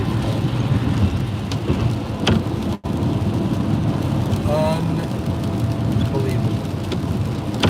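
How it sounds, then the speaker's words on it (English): Rain under an overcast sky pours steadily around a road vehicle, a constant close hiss with low road rumble and a brief dropout partway through. "overcast rain"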